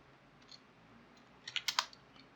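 A short run of keystrokes on a computer keyboard as a Linux command is typed, with four or five quick, crisp clicks close by in a quiet room.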